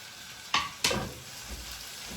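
Tomatoes tossed into a hot pan of wilting spinach give two quick sizzling bursts, then settle into a soft, steady frying hiss close by.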